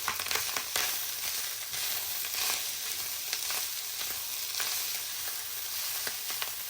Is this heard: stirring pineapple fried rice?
yes